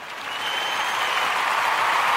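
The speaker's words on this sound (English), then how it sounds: "Let's give him a round of applause." A round of applause from an audience, dense continuous clapping that builds quickly and stays loud for a couple of seconds.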